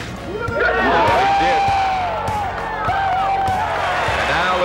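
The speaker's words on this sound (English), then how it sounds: "the applause won't stop" A huge golf gallery cheers and applauds John Daly at the 72nd hole of the 1991 PGA Championship at Crooked Stick, a steady, dense roar of clapping and shouting voices that swells and holds throughout.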